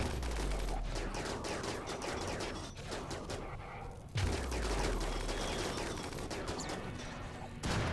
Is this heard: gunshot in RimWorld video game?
yes